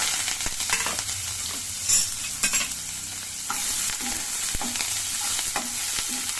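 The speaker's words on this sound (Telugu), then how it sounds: "నూనె కాగిపోయింది. ఆవాలు వేసాను, కొద్దిగా జీలకర్ర వేసుకుంటాను. ఇవన్నీ వేసేస్తాను ఒకేసారి." Mustard seeds and cumin crackle and sizzle in hot oil in a home kitchen, a steady bright frying hiss with scattered pops and a few louder spatters, close and continuous with no talk.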